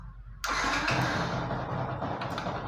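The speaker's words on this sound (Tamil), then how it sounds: "இதை போட்டுட்டு மறுபடியும் பைக்கை ஸ்டார்ட் பண்ணி பார்ப்போம்." Yamaha R15 motorcycle under repair for a 46 error code starts up abruptly after a short quiet moment, then settles into a steady, fairly loud idle.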